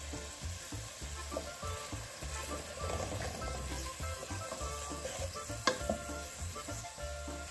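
Onion, crushed garlic, oregano and bay leaf frying in a pan, a close, steady sizzle with scraping stirs and occasional clicks, plus a low rhythmic hum underneath and no talking.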